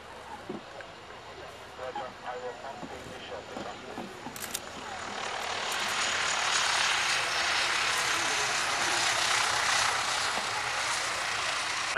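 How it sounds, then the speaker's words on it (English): A military helicopter, a new type entering Air Force and Royal Navy service, flies in at the 1997 Fairford air show, its broad rotor and engine roar swelling from a distance to a loud, steady wash over crowd murmur. "a helicopter that's coming in for the Air Force and also replacing Sea King for the Royal Navy"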